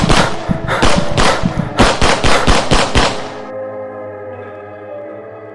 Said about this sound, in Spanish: Disparos y gritos de terror resonaron desde la entrada de la caverna.